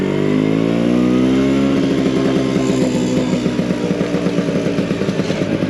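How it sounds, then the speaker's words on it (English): A Vespa PX125 scooter with its throttle twisted open, the small two-stroke engine rising from a smooth drone into a rapid, pulsing buzz, loud and close with wind rush and no voices. "When you do twist that throttle and stretch its legs a little bit,"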